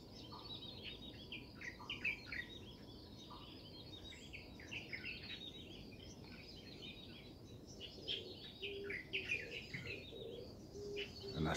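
Many birds chirp and twitter across rejuvenated wetlands, a faint, continuous chorus of small overlapping calls at a distance over a low rumble of wind or background noise.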